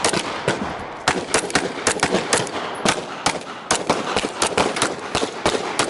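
Rapid gunfire rings out during a firearms training drill, sharp close shots cracking in quick irregular strings, some overlapping like several shooters firing at once, with no talking.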